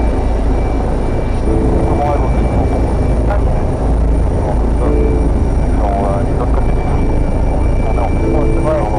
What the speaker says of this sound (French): tant que l'hélico il tourne, ou qu'il tourne, mais que les pales elles tournent